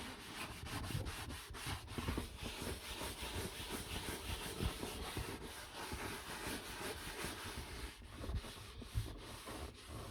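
Rhythmic scrubbing of a car interior surface with a detailing scrub pad, repeated close rubbing strokes with a gritty, brushy texture continuing steadily without talk.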